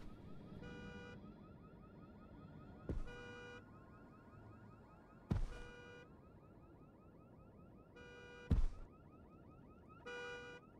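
Car alarm in the horror video game Visage, cycling through repeated electronic beeping and honking bursts in a regular pattern with brief gaps, heard alone and moderately loud, punctuated by a few sharp thumps.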